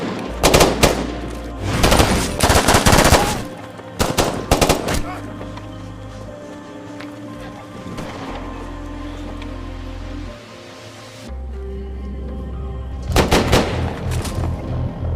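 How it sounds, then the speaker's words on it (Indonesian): Bursts of film gunfire as Taliban soldiers shoot at villagers: loud rapid volleys of shots in several clusters, separated by quieter stretches of low rumble and sustained tones, with a final burst near the end. "Tembakan demi tembakan dilayangkan oleh tentara Taliban menghabisi penduduk desa"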